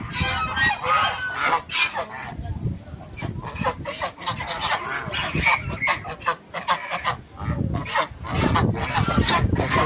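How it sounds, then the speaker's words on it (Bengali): Large ducks near a temple call out in loud, repeated honking quacks, close by and overlapping, with voices talking at times among them. "বড় বড় হাঁস দেখো বন্ধুরা।"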